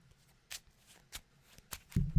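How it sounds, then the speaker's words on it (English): Dragon Shield card sleeves shuffled alone in three quick, separate riffling bursts, each a short crisp hiss, followed by a louder rustling handling noise at the end. "Shuffling and looking through these sleeves is an issue for me"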